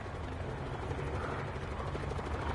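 A helicopter's rotor thrums steadily with a rapid, pulsing chop, loud and close, filling the whole moment with no voices, in a zombie video game.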